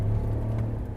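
Deep, steady rumble of a 2022 Chevrolet Silverado ZR2's 6.2-liter V8, heard close with a strong low drone and no talking.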